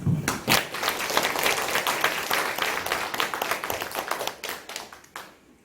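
A congregation at a Korean Sunday church service applauds warmly, a full round of clapping that swells quickly, holds steady, then fades out near the end.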